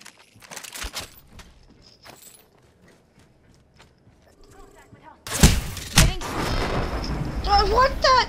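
Bursts of gunfire in a battle-royale video game erupt after a stretch of quieter shuffling and clicks, turning loud and dense with sharp repeated cracks and ringing effects over the last few seconds.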